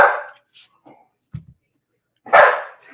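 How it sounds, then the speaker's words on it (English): A dog barks a few times in short, sharp bursts with silent gaps between, fairly close and loud, with a faint thud in the middle. "stop it with the dog barking"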